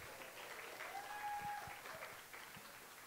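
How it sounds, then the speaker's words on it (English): Audience applause at a county sexual assault awareness conference, a soft, steady patter of clapping from a room of people, fairly faint and distant throughout. "Let's give a round of applause for that."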